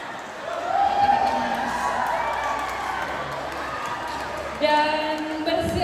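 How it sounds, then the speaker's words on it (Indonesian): Applause and cheering from the audience for a finalist at a campus ambassador pageant, a crowd roaring steadily with voices mixed in and a swell near the end. "tepuk tangan yang meriah untuk finalis nomor"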